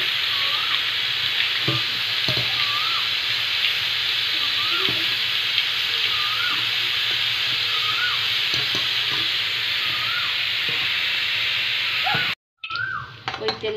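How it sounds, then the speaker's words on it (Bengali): Fried onions (beresta) being stirred in hot oil in a pan for a home-made chicken biryani: a steady, loud sizzle with repeated scraping strokes of the spoon, and a brief break near the end. "লাল লাল ভাজা হয়ে গেছে, বেরেস্তা ভাজা। এবার আমি মিশিয়ে নেব।"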